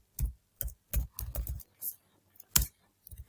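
A computer keyboard is typed on in short bursts of clicky keystrokes with brief pauses between them, heard close and fairly soft.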